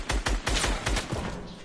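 Rapid gunfire in Fortnite, a tight burst of about five sharp, loud shots in quick rhythm that fade into a short tail.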